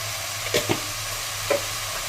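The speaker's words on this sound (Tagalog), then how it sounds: "Ngayon, halo-haluin natin para ma-absorb yung lasa niya." Chicken adobo with bay leaves sizzling in a pan, a soft steady fry punctuated by three short scraping knocks of a utensil stirring, close and otherwise quiet.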